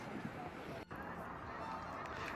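Faint, distant honking of geese in Montreal over a steady background hiss, with calls scattered irregularly through the short stretch.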